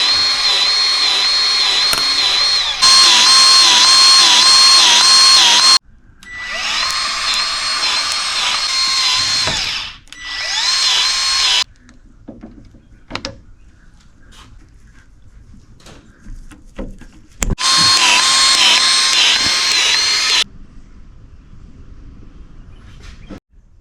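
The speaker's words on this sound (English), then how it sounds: "now, finally time to use our Milwaukee cordless grease gun" A Milwaukee cordless grease gun used on a transmission install, whining loudly in several multi-second bursts with a steady motor pitch and quiet gaps and clicks in between.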